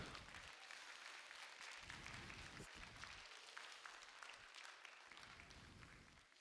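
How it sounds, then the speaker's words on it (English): Sustained applause from a small audience at a science experiment show, steady dense clapping throughout with no talking over it. "let's give them a round of applause"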